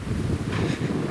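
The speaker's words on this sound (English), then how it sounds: "Sorry, it's going to be a bit windy." Wind gusts across the microphone outdoors on a farm, a steady low rumbling buffet with no other distinct sounds.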